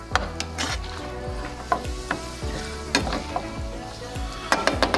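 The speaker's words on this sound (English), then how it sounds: "Mix in all those pepper flakes and garlic in with the noodles here" Noodles tossed and stirred in a hot pan with oil, pepper flakes and garlic: steady sizzling frying under repeated scraping and clacking strikes of the utensil against the pan, close and fairly loud, with no talking.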